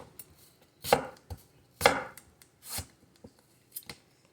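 A kitchen knife chopping through food on a cutting board, several crisp cuts with two louder thuds and lighter taps between, irregular pacing, close and quiet, no speech.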